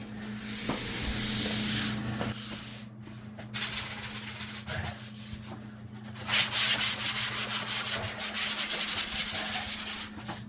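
Drywall is sanded by hand with sandpaper in steady scraping strokes, close and fairly loud, the rhythm quickening toward the end.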